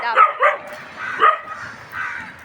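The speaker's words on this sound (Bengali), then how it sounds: "ওখানে কুকুরগুলো অকারণ দেখি দৌড়ে যাচ্ছে, এদিক ওদিক চিৎকার করছে, দৌড়াচ্ছে।" Dogs bark near a stadium in the early morning, a few moderately close yelping barks in quick pairs, then softer calls after a pause.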